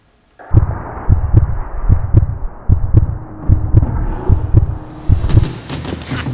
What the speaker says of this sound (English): I love that dramatic heartbeat